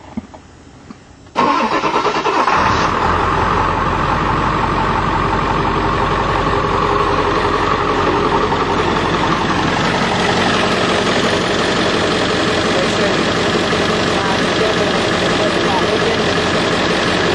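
A 2001 Ford F250 truck engine cranks and catches after a quiet moment, then settles into a loud, steady diesel-like idle that runs close by for the rest of the stretch.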